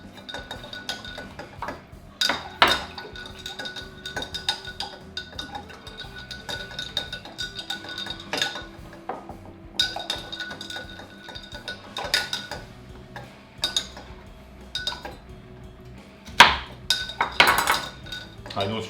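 Arranged rum with roasted pineapple, pepper and orange is stirred in a glass jar, bringing irregular clinks and taps of utensil against glass, close and sharp, over a soft background hum.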